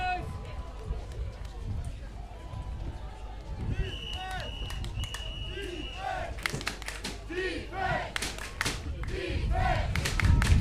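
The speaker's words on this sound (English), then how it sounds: "French crowd getting behind the teammates" A French crowd cheers and claps in a windy stadium during a match, a broad roar with scattered claps and thumps rising toward the end, under steady commentary speech.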